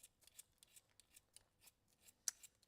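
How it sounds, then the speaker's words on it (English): A pencil being sharpened by hand, heard as a series of faint, close, short scraping strokes in an irregular rhythm, with one sharper click near the end, in a quiet room. "sharpen my pencil"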